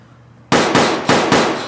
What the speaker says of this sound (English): Straight up gunshots.